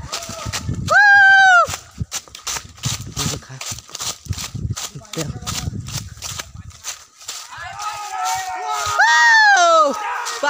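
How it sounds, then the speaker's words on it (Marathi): During a forest trek near Dapoli, people let out loud, long, rising and falling whoops of joy on finding a well, with two strong cries and excited talking in between. "ते बघा कसे बोंब पाडतायत."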